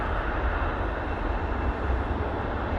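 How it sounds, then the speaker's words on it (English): A Boeing 787-9 Dreamliner arriving from Cancun at Manchester Airport, heard as a steady, dense jet engine roar, distant-sounding and uniform, with no voices over it. "And this is the one from Cancun using a 787-9 Dreamliner."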